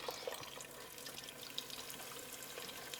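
Liquid pours steadily into a pan of cheese cooking down on the stove, a faint continuous trickling splash with no talk.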